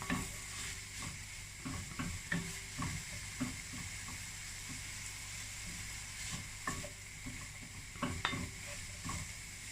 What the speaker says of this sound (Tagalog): Gisa lang natin siya para mag-corporate yung lasa.